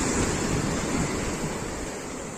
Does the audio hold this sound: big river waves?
yes